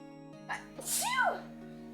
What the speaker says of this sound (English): You have a very cute sneeze